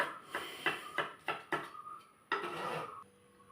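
A knife chops banana stem on a board while preparing thoran, giving a close series of sharp, irregular cutting knocks, several in quick succession, then a longer scraping stroke.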